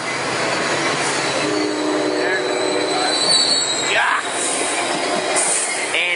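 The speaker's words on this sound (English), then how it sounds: "Getting blasted by the exhaust of the train." A close, loud Coaster commuter train rolls by at Oceanside Transit Center with a constant roar, broken by intermittent high-pitched wheel squeals.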